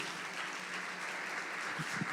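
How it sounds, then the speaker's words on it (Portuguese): A church congregation claps together, a dense, even roar of applause sustained for about two seconds with no voices over it. "Você pode aplaudir a Ele mais uma vez?"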